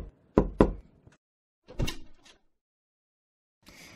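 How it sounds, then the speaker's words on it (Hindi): Cartoon door knocking: a pair of sharp knocks near the start, a firmer cluster of raps about a second later, then a soft rustle at the end, with silence between. "उसी वक्त किसी ने दरवाजा खटखटाया।"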